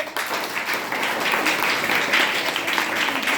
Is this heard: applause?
yes